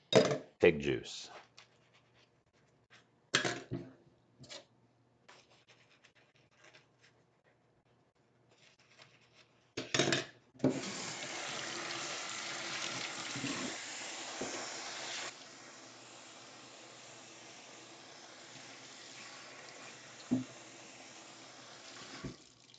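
Tap water runs steadily into a kitchen sink while pork juice is washed off hands and a cutting board, a continuous broadband hiss after several short knocks and clatters, loud at first and then settling to a softer, even flow.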